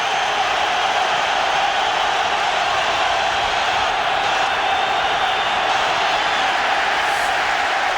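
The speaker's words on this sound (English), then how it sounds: "Crowd getting into it now" A packed stadium crowd at the 1998 Redskins at Eagles NFL football game sends up a steady, dense roar of cheering that holds unbroken throughout, loud and enveloping.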